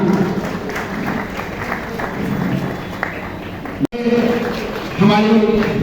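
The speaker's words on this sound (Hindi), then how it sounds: "जोरदार तालियां।" Dense, loud clapping from an audience after an aarti to Shree Agrasen Maharaj at a student award ceremony, a continuous crowd roar that briefly cuts out before voices take over.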